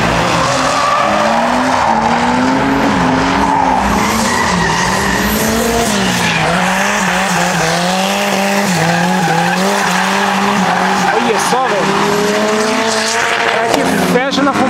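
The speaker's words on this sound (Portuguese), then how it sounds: "como é bonito ver um Chevette fazendo drift" Chevette cars drifting on a kart track at Kartódromo de Aldeia da Serra, loud continuous tire squeal over wailing engines revving up and down, with people talking over it.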